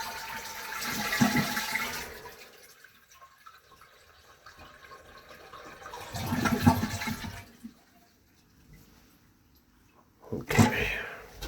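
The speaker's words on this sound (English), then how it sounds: "I'll flush the toilet." Toilet flushing in a bathroom during a toilet replacement, heard in three separate bursts of rushing water with quieter trickling and refilling between them.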